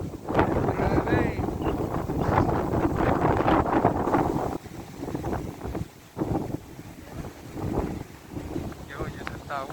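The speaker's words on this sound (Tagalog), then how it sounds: "Hangin." Strong wind gusting across an open outdoor viewpoint in Batangas, roaring and buffeting the microphone steadily, with people talking close by throughout.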